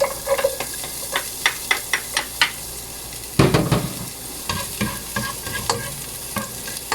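Garlic sautéing in a pan as the base for Filipino kare-kare, with a steady sizzle and repeated scraping, clicking strokes of a utensil stirring, close and clear without speech.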